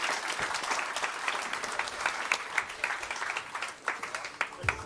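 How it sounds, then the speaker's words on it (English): Conference crowd at an interoperability summit gives the panelists a round of applause, a moderate, even patter of many hands with a few sharper nearby claps, and voices murmur beneath it. "Everybody, please give a round of applause."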